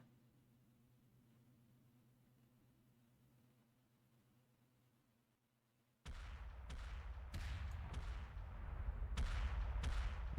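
Heavy weapons fire in the video game Era One: after a quiet stretch, loud, dense booming shots and explosions start abruptly and continue in rapid bursts, with no voices.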